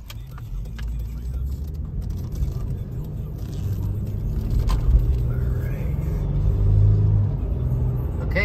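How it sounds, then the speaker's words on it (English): A 2004 Toyota 4Runner SR5 4x4 truck on the road gives a steady low engine and road rumble from inside the cabin, swelling slightly around the middle and end with a faint rattle like jingling keys. "Yeah, so this truck's driving great."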